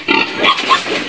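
Pigs in a farm pen cooled by an electric fan give several quick, close grunts and oinks in a short burst.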